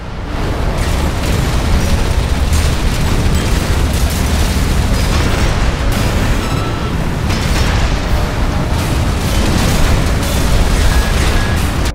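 Dual Huben Gatling guns and dual Songbird grenade launchers firing from a mech in Armored Core 6, a dense, unbroken roar of rapid fire and booming blasts that stays loud throughout.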